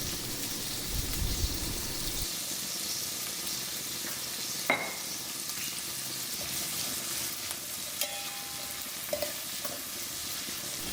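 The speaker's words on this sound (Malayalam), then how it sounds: "ഇതിലോട്ട് നമുക്ക് കുറച്ച് ഉപ്പും കൂടെ ചേർത്ത് നല്ലോണം വഴറ്റിയെടുക്കാം" Shallots sauté with salt in a hot pan for a clam fry, a dense continuous sizzle close up, broken by occasional clinks and scrapes of a spoon, no voices.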